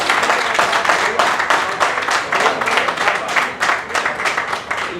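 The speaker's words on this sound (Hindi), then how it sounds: "ये मुरादाबाद की तालियां सबाब सुभान असद भैया के लिए, महेश्वर तिवारी" Live audience at a poetry recital in Moradabad bursts into warm applause, a dense, steady patter of many hands clapping that carries on for several seconds.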